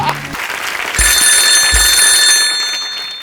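A telephone rings during a staged phone call on a comedy talk show, a bright electronic ringing tone that starts abruptly and holds steady for about a second and a half, heard alone and fairly loud.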